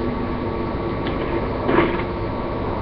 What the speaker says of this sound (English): So where is the squeaky wheels?